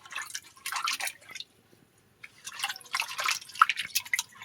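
Fish being washed by hand in water: two bursts of close splashing and sloshing separated by a short quiet pause, with light drips.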